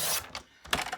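Cardstock being trimmed to size on a paper trimmer, two quick sliding cuts with mechanical clicks and a short pause between them, close and fairly quiet.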